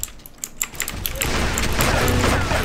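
A rapid-fire revolver in a Roblox game, starting with a few separate clicky shots and then breaking into a dense continuous burst of rapid fire, close and loud, with a voice partly under it.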